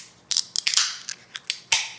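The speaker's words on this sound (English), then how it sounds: "let's grab the can and grab the glass and let's open her up." A beer can from Dragan Brewing & Wine Company being cracked open indoors, a series of sharp clicks, snaps and a brief hiss of released pressure in quick succession, close and without speech.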